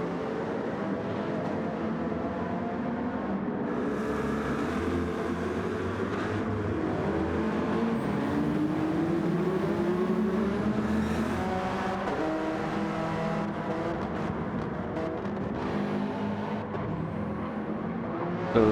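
Gr. 4 class race cars at Laguna Seca in a racing game, engines droning steadily as several cars run close together, with revving pitch shifts and no talk over the sound.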